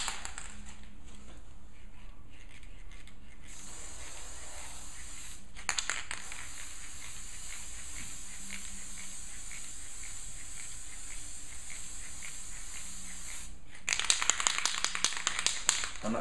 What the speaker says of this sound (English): I'm about to spray the final coat of lacquer